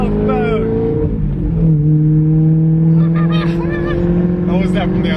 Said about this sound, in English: The S65 V8 sounds just very unique.